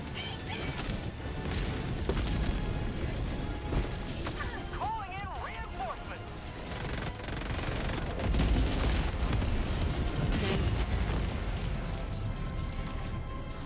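An enemy tower firing rockets in Helldivers 2, with rumbling booms and crashing blasts over a dense, continuous din of battle, while players talk over it.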